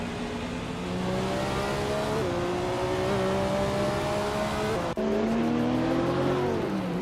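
Racing engines in a video game, led by a Nissan 350Z GT1, hold a loud, steady high drone, shifting pitch with gear changes and a sharp break near the end, with no voices.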